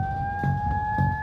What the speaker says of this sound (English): When their bomb is ready, the warning siren sounds